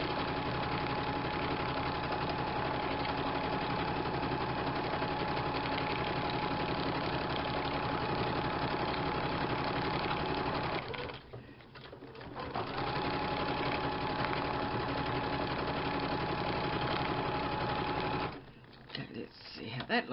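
Close and steady, a sewing machine hums and rattles as it stitches through collage book pages, running continuously with two brief pauses near the middle and the end.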